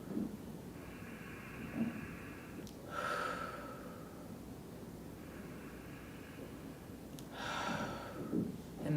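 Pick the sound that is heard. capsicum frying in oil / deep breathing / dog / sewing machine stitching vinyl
deep breathing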